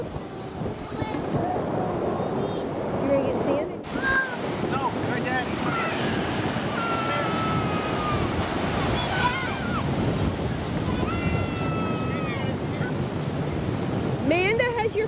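Ocean surf washes steadily onto a Hilton Head beach, with heavy wind buffeting the microphone throughout while voices talk nearby.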